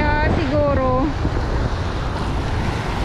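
Strong waves washing onto a beach shore, a continuous rushing surf mixed with wind buffeting the microphone, and a brief voice-like tone at the start.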